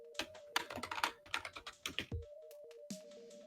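Rapid, uneven keystrokes on a computer keyboard, close and fairly loud, clustering in quick bursts with a steady electronic tone running underneath and no one speaking.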